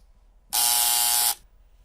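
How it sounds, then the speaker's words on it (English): A quiz show buzzer sounds once at a team quiz, a loud, steady electronic tone lasting just under a second before cutting off abruptly. "All hands on the buzzer, and here comes my question."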